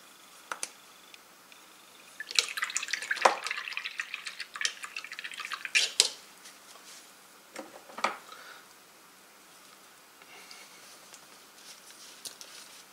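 Water dripping into a container during a painting session, a few sparse irregular drips near and fairly quiet, with some soft handling clatter and no talk.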